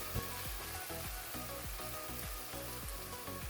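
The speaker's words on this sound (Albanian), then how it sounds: "Pasi që kemi skuqur mirë qepën, do të vazhdoj që t'i hedhi disa erëza." Chopped onions and spices fry in a pan with a steady crackling sizzle, joined by a regular series of soft scraping strokes as the mix is stirred, close and without talk.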